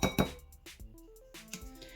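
A spoon mixes tapioca in a bowl, making a few close, bright clinks and taps against the sides with ringing tones between them.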